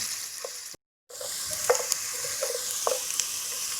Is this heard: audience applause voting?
no